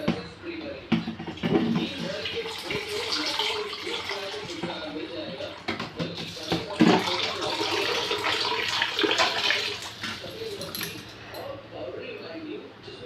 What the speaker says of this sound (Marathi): आता आपल्याला यामध्ये पाणी टाकायचं आहे.